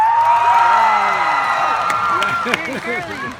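A graduation ceremony crowd cheers, whoops and claps loudly and continuously, a broad sustained roar that fades slightly toward the end.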